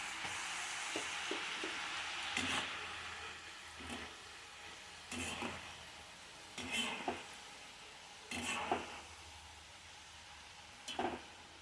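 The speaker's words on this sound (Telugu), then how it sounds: "ఇది క్రిస్పీగా అయ్యే వరకు ఫ్రై చేసుకోవాలి" Onion samosas frying in hot oil give a steady soft sizzle, with intermittent louder stirring scrapes and utensil clinks every couple of seconds, close and without talk.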